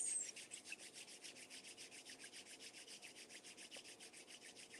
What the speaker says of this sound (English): We'll rub our hands together like this.